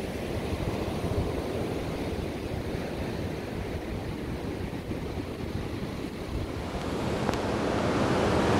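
Ocean surf at Barreira do Boqueirão beach in Japaratinga, Alagoas, below cliffs that the higher tide reaches: a steady, loud wash of breaking waves with wind buffeting the microphone, rising slightly toward the end, no voices.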